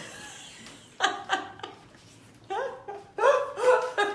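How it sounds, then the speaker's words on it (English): A puppy romps with a Kong toy in the background, giving off short yelping, squeaky bursts in uneven clusters against a quiet room. "my puppy is in the background having a field day with his Kong, and so that's the noise that you hear in the background"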